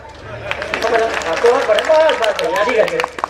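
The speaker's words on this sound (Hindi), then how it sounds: "ताली बजाओ" An audience claps at a gathering after a speaker's remarks, scattered mid-level clapping heard under ongoing voices and crowd chatter.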